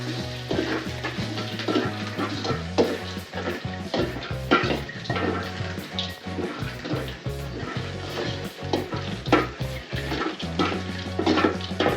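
Garlic fries in hot oil as North Karnataka spicy mandakki is made, giving a dense steady sizzle with frequent spatula scrapes and clanks against the pan, close and continuous for twelve seconds.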